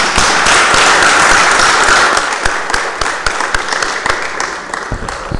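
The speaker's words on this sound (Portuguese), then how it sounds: "solicito a todos que saudemos o pavilhão nacional com uma salva de palmas" A room at a formal municipal council session breaks into applause to salute the national flag: dense, loud clapping from many hands at first, thinning into scattered, sharper individual claps as it fades out.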